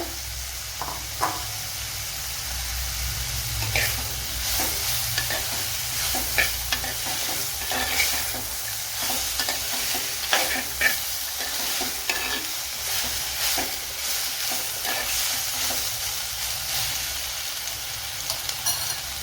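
Cut green mango pieces stirred in a hot pan while cooking mango pulisheri, a continuous sizzle with repeated scraping and clinking of a spoon against the pan in an uneven rhythm, close and fairly loud.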